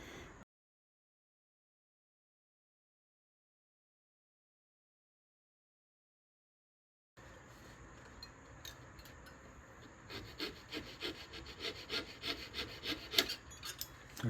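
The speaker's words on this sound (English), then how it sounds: "I'm going to cut the straight lines going in on the bandsaw" A bandsaw cuts a straight slot into a laminated wood ornament, starting after a long stretch of silence. The cut is a faint, steady rasping buzz with small rhythmic pulses as the blade moves through the wood.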